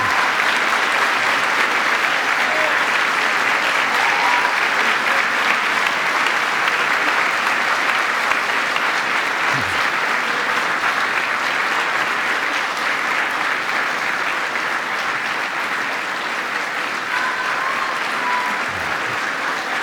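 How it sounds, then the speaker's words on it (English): A graduation ceremony audience at Aberystwyth University applauds the graduands' supporters with loud, steady, sustained clapping from a large hall crowd that fills the whole stretch without letting up. "by your applause, show your appreciation of what they've done to bring you to this occasion"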